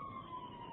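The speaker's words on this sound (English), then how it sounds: "The ambulance had its sirens on." An ambulance siren wails steadily at a single sustained pitch, loud and continuous, with faint road noise beneath it and no talking.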